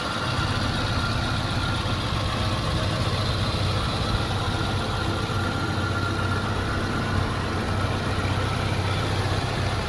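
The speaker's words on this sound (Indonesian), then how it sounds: "Ini untuk suara mesinnya. Sangat halus sekali kalau suara mesinnya." A smooth, low-mileage 2003 Suzuki Katana GX idles steadily, a constant even engine hum heard close up without any change in pace.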